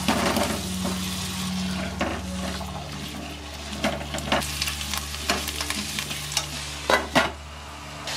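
Potatoes fry in mustard oil in a pan for a cauliflower malai curry, with a soft steady sizzle under intermittent scraping and stirring knocks, close and fairly quiet.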